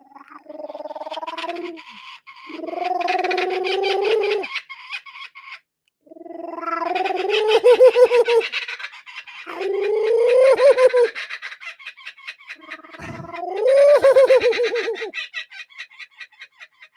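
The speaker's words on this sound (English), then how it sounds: "they are called laughing kookaburras. Yeah, and so they get that sound" A laughing kookaburra at a zoo calls in several loud, close bursts of rising, cackling chatter, each lasting a couple of seconds with short pauses between.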